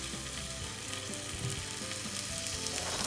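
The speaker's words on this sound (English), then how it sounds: "As our pan is getting nice and hot, we're gonna place in our cheese." Cheese sizzles in a hot pan, a steady, close frying hiss with faint crackles and pops, heard alone without talk.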